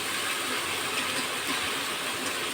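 Tengra fish curry fries in a pan, giving a steady, even hiss of sizzling oil that stays constant and close throughout, with no talking.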